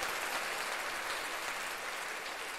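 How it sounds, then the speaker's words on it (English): Faint, steady applause from an audience, an even wash of clapping at low level with no talking over it. "Yeah, round of applause for me."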